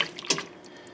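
Hot water with dish soap being stirred and sloshed in a sink or basin for cleaning microwave grease filters, brief splashes and trickles up close, fading to quiet.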